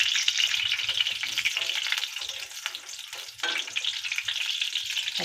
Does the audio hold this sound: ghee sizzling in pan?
yes